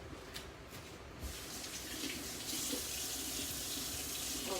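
A kitchen tap runs steadily as something is rinsed under the stream, a close, continuous splashing hiss that grows slightly fuller partway through, with no talk.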